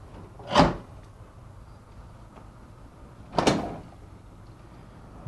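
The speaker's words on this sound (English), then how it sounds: "push it in position until you hear a click" A Red Sea MAX S-Line aquarium drawer is set onto its sliders and pushed into position, with two short, distinct clicks or knocks about three seconds apart against a quiet background.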